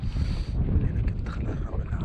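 Strong desert wind buffeting the microphone, a low rumbling roar with gusty swells, loud and close, with faint voices beneath.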